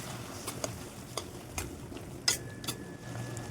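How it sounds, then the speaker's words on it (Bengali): Spice paste with ground cumin, coriander, chilli and turmeric stirred and fried in a pan for egg curry, soft sizzling under periodic scraping strokes of a spoon, close and fairly quiet. "মশলাগুলো দিয়ে ভালো করে কষিয়ে নেব।"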